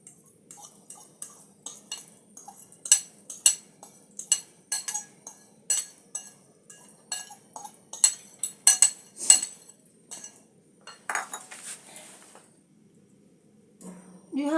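A utensil mixes chopped tomatoes and spring onions for an omelette in a bowl, giving a run of sharp clinks and scrapes in irregular bursts, close and clear against a quiet background.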